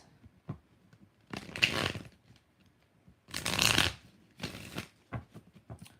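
Tarot cards being shuffled during a live reading: three separate bursts of riffling, each lasting about half a second to a second, separated by pauses with soft handling taps and clicks, close and fairly quiet.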